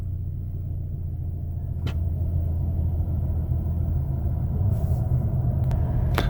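2019 Chevrolet Equinox LT idles after a push-button start, a low steady engine rumble heard from inside the cabin with a couple of faint clicks and no speech.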